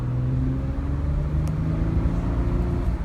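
A 2007 Honda Odyssey minivan driving slightly uphill after a transmission fluid change, with a steady low engine drone and road rumble throughout, shifting smoothly with no voices.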